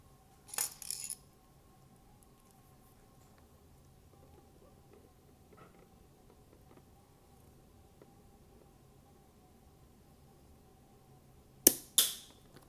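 A mini Lego EMBR model gun shooting: a brief clattering snap near the start, a quiet stretch with faint background hum, then two sharp clicks close together at the end.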